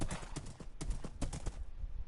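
Rhythmic clip-clop of horse hooves as a horse is ridden in Minecraft Bedrock Edition on PS4, steady repeated footfalls close and fairly loud, alone without talk.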